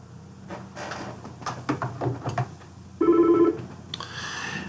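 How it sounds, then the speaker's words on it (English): A phone rings from an automated click-to-dial call: several soft clicks and taps first, then a loud electronic ring tone for about half a second, followed by a quieter second ring. "my phone started ringing"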